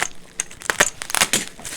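Plastic bag packaging around collectible Star Wars–adjacent action figures crinkling and crumpling up close in sharp irregular bursts.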